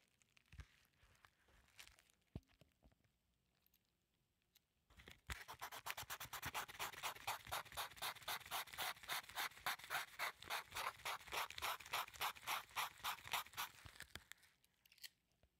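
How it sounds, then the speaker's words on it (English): A tool scrapes burnt shipping label residue off a surface: faint handling at first, then a long run of fast, rhythmic rasping strokes, close and steady, before it stops. "Now we can double check this by trying to scrape it away."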